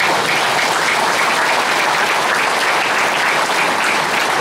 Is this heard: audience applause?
yes